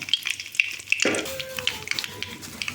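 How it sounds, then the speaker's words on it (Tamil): Curry leaves drop into hot oil and burst into a loud crackling sizzle, preceded by a few light clinks, then settle into steady spattering frying up close. "அடுத்து கருவேப்பிலை போடுறோம். கருவேப்பிலை போடுறோம்."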